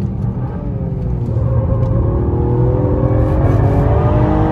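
A Toyota GR Yaris with four-wheel drive drives on a dry race track set in a forest, its engine droning loud and close inside the cabin as the revs climb steadily.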